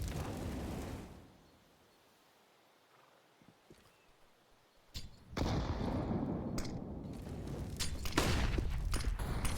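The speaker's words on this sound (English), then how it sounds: "Lots of nades going back and forth on Banana." Grenades exploding in the CS:GO video game on the Inferno map, with rumbling blasts and dense crackling bursts that go quiet briefly and then return loud and sustained.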